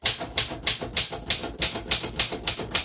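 Rapid, even keystrokes clack on a 1935 Royal Model O manual typewriter, about ten sharp strikes in quick rhythm, close and alone.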